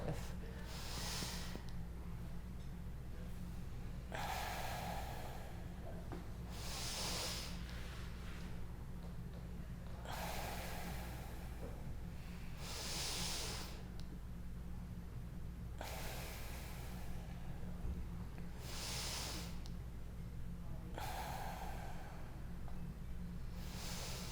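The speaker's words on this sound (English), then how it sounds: "We'll take 5 big inhales, hold the inhale in, allow the exhale." Slow, deep breaths during a foam roller stretching session, big breathy inhales and exhales repeating at a steady pace every few seconds, close to the microphone over a low background hum.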